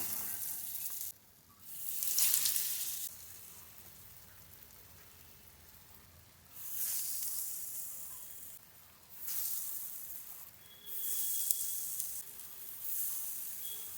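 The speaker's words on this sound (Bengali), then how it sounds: "এটা একদম লো ফ্লেমে করে দেবো কাঁচা কলার বড়াগুলো আস্তে আস্তে হোক" Raw banana fritters shallow-frying in a little oil over a low flame give a steady, close sizzle that swells into several louder bursts of crackle, with no talking.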